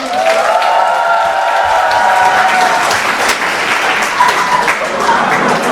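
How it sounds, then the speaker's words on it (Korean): Wedding guests applaud loudly in a wedding hall, a continuous dense roar of clapping with some cheering, a voice audible near the start. "큰 박수 항상 부탁드립니다."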